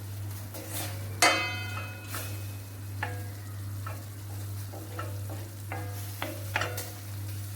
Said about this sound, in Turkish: Ara ara şöyle etimi karıştırıyorum.